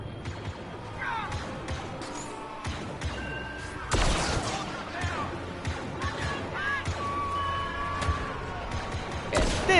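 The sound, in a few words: gunfire from a gun in video game Star Wars Battlefront 2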